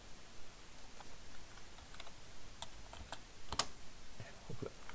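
Quiet, close keystrokes on a computer keyboard come in an irregular scatter of light clicks and ticks over soft room noise, with no voices.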